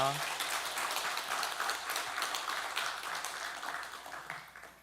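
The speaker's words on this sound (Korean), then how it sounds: "박수로 환영하시겠습니다" A church congregation at Sunday worship applauds to welcome new members, with scattered hand claps building into steady applause over a quiet hall.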